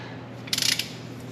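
A ratchet tightens bolts on a Porsche Boxster 986 engine during IMS bearing replacement reassembly: a quick, close burst of about half a dozen sharp clicks, heard alone over a low steady hum.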